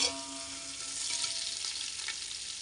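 Onions frying in a pan for chicken biryani give off a soft, even sizzle that carries on steadily at low volume, with faint tonal hum in the background and no talk.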